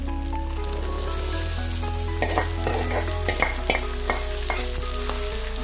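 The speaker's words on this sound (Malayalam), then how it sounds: "ഇനി നമുക്ക് നമ്മുടെ സവാള ഇട്ട് കൊടുക്കാം" Sliced onions fry in a hot pan for chilli chicken, a dense close sizzle with scraping and clattering stirs building midway, no talk over it.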